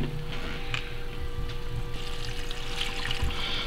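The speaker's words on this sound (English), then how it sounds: "Add the water slowly, a couple cups at a time." Water poured slowly, a couple of cups at a time, into a vivarium tank, giving a steady soft trickling and splashing close by with no voices.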